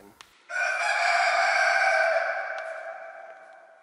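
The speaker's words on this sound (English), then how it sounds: "a live chicken is kept inside the cathedral" A live rooster kept inside a cathedral gives a single long, loud crow that rings out clearly in the quiet space, starting after a brief pause and trailing off slowly.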